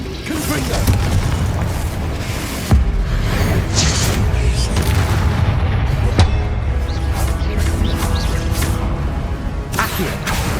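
Spell casting in Hogwarts Legacy, with Confringo fire explosions, produces repeated booming blasts and whooshes over a dense, continuous wash of game sound, while a voice speaks the spell names throughout.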